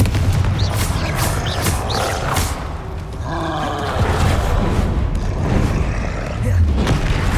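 Confringo blasting spells explode in Hogwarts Legacy, with repeated booming blasts and rumbling impacts layered over continuous game ambience and effects.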